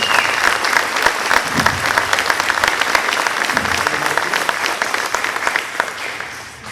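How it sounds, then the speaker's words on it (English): Audience applause for the soloists and ensemble at a school winter band concert, a steady, dense clapping from a full room that holds for several seconds without letting up. "Round of applause for the soloists and ensemble participants."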